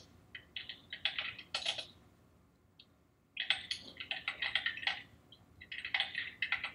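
Bursts of rapid keyboard typing come in quick clicky runs, close up, separated by short pauses, with no talking.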